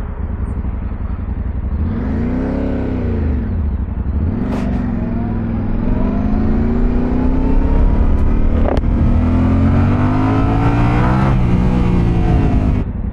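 A Yamaha Ténéré 700 motorcycle engine starts and revs, rising and falling in several loud, close throttle sweeps over a steady rumbling idle, with no talking.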